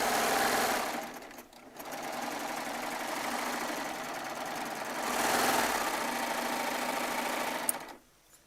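A Baby Lock Triumph serger stitching a seam runs in a steady loud whirring burst, pauses briefly, then runs again at a slightly higher pitch before stopping near the end.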